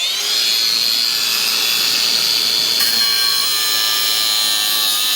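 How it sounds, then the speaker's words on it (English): Angle grinder cutting through an old metal water pipe, a steady high-pitched whine and grinding screech that shifts pitch partway through, loud and continuous with no talk. "So we've sent Dad to go get the angle grinder. We're gonna try and cut it here"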